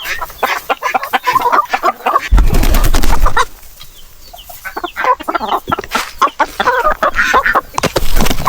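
Chickens cluck and squawk busily at close range, with a burst of wing-flapping or scuffling midway through.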